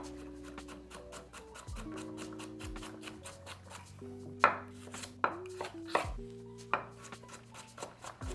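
A knife chops vegetables on a cutting board: a handful of sharp, close cuts stand out, some in quick pairs, over steady background music.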